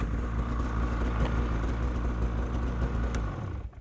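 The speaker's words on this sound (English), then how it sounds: "if the engine's cold, it can take a few starts to get it started" A cold 2020 Polaris Switchback Assault 850 snowmobile engine runs with a steady low mechanical drone close by, holding even before cutting off abruptly at the end.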